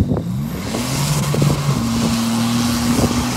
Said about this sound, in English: There's only one wheel likes to spin. What's the chance we just got stuck in the mud now?